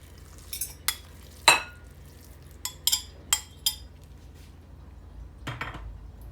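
Minced beef being mixed by gloved hands with dry spices in a bowl for chapli kebab, giving scattered clinks and knocks against the bowl among quieter squishy stirring, close and fairly faint.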